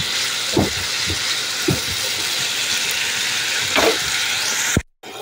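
Beef kofta masala sautéing in a pan with lemon juice, a steady loud hiss of frying with a few scraping stirs, ending in a brief sharp clatter and cut.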